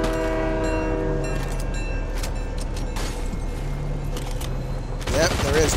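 Train rolling past in Fortnite, a steady rumble with horn-like tonal lines across the clip, ending in a louder burst of action sounds near the end.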